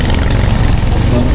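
A motorcycle engine running steadily and loud, close by, with a constant low rumble through the whole stretch, ridden in Tawi-Tawi. A voice can be heard over the engine.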